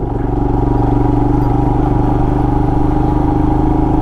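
A Royal Enfield Himalayan motorcycle engine running steadily off road in a national forest, a loud, close, even thrum with a constant low rumble and no change in pace.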